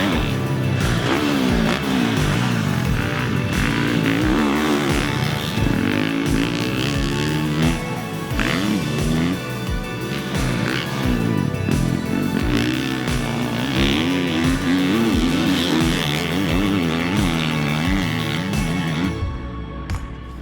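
A Twisted Development race-shop-built 2020 KTM 350 SX-F motocross bike engine revs hard and keeps pulling up toward the rev limiter, a loud, close, continuous buzzing roar with rising and falling pitch sweeps throughout.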